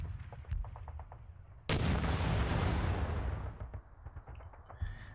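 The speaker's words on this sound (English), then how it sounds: "Well, we've got some counter battery fire there." Artillery counter-battery fire in the wargame Panzer Campaigns Bulge 44: a few faint ticks, then one sudden loud blast whose rumble decays over several seconds, with scattered small pops afterward.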